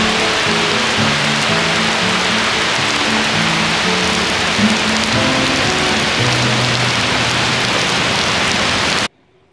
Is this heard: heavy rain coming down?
yes